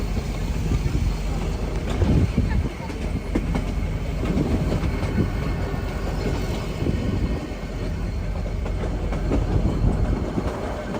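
The Ooty toy train in the Nilgiris runs along the tracks with a continuous low rumble and rhythmic clattering of wheels over the rails, steady and close throughout.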